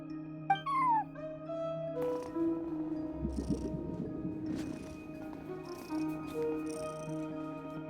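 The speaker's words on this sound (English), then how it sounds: "cat watching over the front desk. Excuse... meow?" A cat meows at a front desk in the video game Genshin Impact, with short meow-like calls near the start and a steady game soundtrack and ambience beneath.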